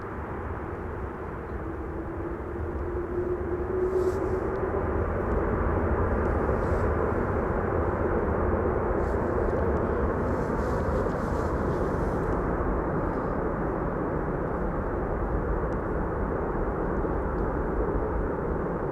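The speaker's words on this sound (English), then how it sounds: "Still hear the use of the reversers" Broad, steady roar of a landing airliner's thrust reversers, loud and sustained for the whole stretch with a faint rising tone early on, no voices over it.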